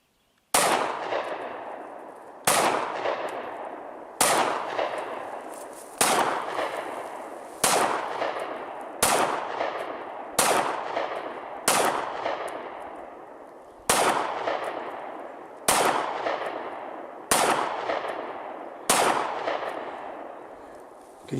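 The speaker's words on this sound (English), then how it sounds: "my brother's going to be aiming right here, and I filled this magazine that has the MagGuts in it with 3 different kinds of rounds" A Sig Sauer P365 pistol fires rounds from a magazine fitted with MagGuts, about a dozen loud close shots spaced a second or two apart, each with a ringing decay and no talk in between.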